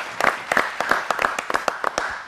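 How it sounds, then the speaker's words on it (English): A handful of people clap briefly for a performer on a Peshawar TV show, a scattered, uneven patter of claps close by, with no voices. "We should clap for this guy,"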